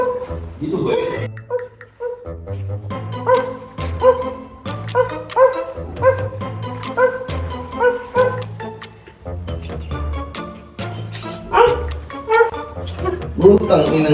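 A dog barks and yips repeatedly in short bursts, close by, while people talk over it.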